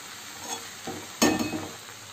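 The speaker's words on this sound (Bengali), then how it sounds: "তো এবারে ভালো করে এমনি মিক্স করে নেব" Water spinach and green amaranth being stirred and mixed in a frying pan, with a few soft scrapes and a brief louder stir of wet greens sizzling gently, close and fairly quiet.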